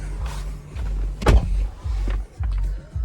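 Power windows of a 2021 Dodge Durango Citadel run in short motor whirs, a steady hum that stops and starts several times with a brief clunk near the middle, close and alone.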